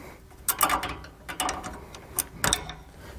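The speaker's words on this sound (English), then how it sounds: "you want to come and tighten down every bolt evenly" A socket ratchet tightens the mounting bolts of a steering stabilizer on a motorhome, making short close bursts of quick metallic clicking with brief pauses between strokes.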